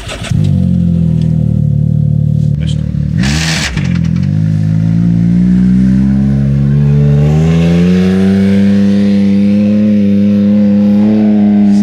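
Seat Alhambra car with an upgrade racing hard around a gravel lap-timing track, its engine loud and close, revving steadily through the gears with rising and falling pitch and no talk.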